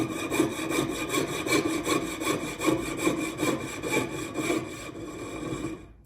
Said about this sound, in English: you'll hear the saw almost, it changes pitch as you're almost through